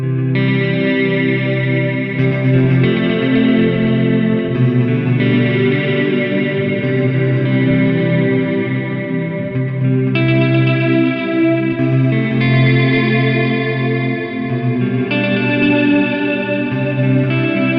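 Worship-style electric guitar with effects playing ambient chord voicings kept close together on the neck, sustained washy chords shifting smoothly every couple of seconds under a steady reverb and chorus shimmer, loud and continuous with no talking.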